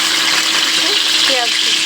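Chopped onion dropped into hot oil in a wok with five-spice seeds, giving a loud, continuous sizzle and hiss close up, while a voice talks over it.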